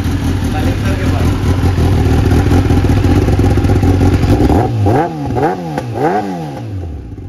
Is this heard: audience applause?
no